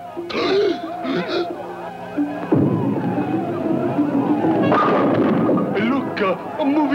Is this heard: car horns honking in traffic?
no